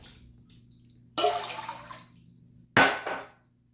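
Water poured from a cup into a pot for a vinegar pickling brine for beets, two short splashy pours in a quiet kitchen, the second louder and briefer.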